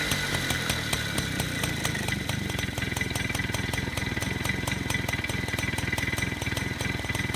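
A Peugeot 103 MVL moped engine with a warm water-cooled motor, kicked over with the decompressor, catches and runs close by at a steady rapid two-stroke putter, loud and uninterrupted.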